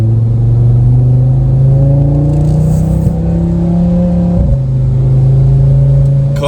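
A 2022 Audi RS3 fitted with a new exhaust holds a loud, steady engine drone, with the pitch rising and then dropping in a brief rev change, heard close up from inside the car with no talking.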